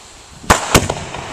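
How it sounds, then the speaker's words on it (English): Two festival balls and a Dixie cannon firework go off in two sharp, loud bangs about a quarter second apart, each followed by brief crackling as the bursts fade. "Two festival balls and a Dixie cannon."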